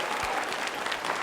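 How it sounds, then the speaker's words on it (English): Audience applause for volunteers at a talk on natural resources, a steady burst of many hands clapping filling the room from start to finish. "Let's give these volunteers a round of applause."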